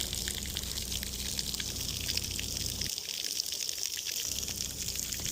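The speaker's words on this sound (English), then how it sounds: "now we're going to use our Milwaukee electric pump to pump some of the water out" A Milwaukee electric pump drawing water out of a water meter box, steady splashing and gushing water with a continuous hiss, a low motor hum dropping out briefly midway.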